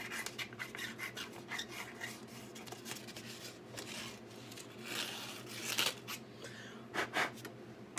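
Higher-grit sandpaper rubs over the wooden striker of a turkey pot call in steady, close back-and-forth strokes, a soft continuous rasp with a few sharper scrapes and no talking.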